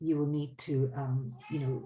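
A house cat meows repeatedly and insistently up close, with three drawn-out, rising and falling cries in quick succession and a brief voice in between.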